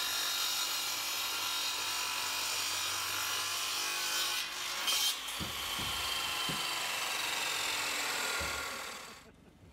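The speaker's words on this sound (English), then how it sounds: "With Gidgee being a hardwood, only a rotary saw will truly cut it." A rotary saw cuts through Gidgee hardwood with a steady, loud rasping roar. A few dull knocks break in near the end before the noise cuts off abruptly.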